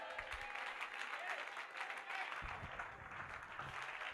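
A church congregation claps and cheers to acclaim the Lord, sustained applause from a crowd with a voice talking over it partway through.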